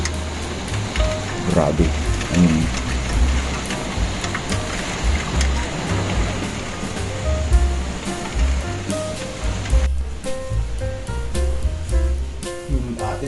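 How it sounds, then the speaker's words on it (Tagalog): Strong typhoon wind roars outside in a continuous gusty rush with rattling and surf-like noise, a voice briefly speaking over it, the roar easing slightly near the end. "Ayan, at lalong lumakas ang hangin guys oh."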